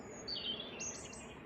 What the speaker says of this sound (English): dry, clear sky, birds singing,